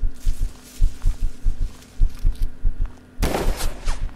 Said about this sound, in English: Oh, where was that gunshot?